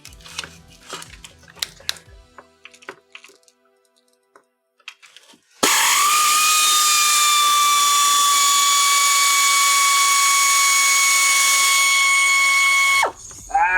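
A ratchet works on a bolt in a home garage. Irregular light clicking comes first, then an abrupt, loud, sustained high mechanical whine runs for several seconds before cutting off. No speech.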